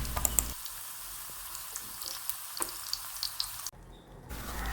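Pieces of sweet porotta fry in hot oil with a steady close sizzle and crackle, broken by a few sharp clicks and a brief gap near the end.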